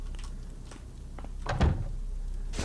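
A door opens in the stealth video game Quinn Co, giving a soft thunk and brief scrape midway through, heard alone against a low, steady game ambience.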